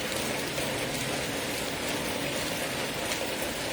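Rain falls on a garden in a constant soft hiss, moderately faint and even throughout, with no voices or other sounds.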